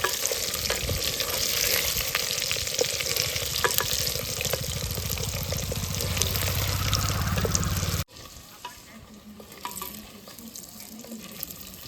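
Stuffed gunda fry with curry leaves in a pan of oil: a loud, dense sizzle with stirring that cuts off sharply after about eight seconds to a much quieter, fainter bubbling.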